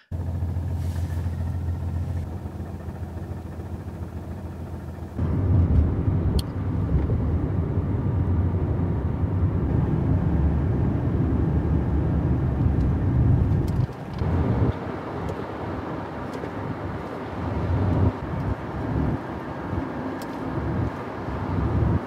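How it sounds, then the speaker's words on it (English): Steady interior road noise inside a moving car, recorded before sound deadening was added to the footwell: a continuous low rumble and broadband hiss whose tone shifts slightly partway through. No one speaks. "I've gone from driving a car that sounds like this"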